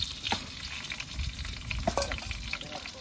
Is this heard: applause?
no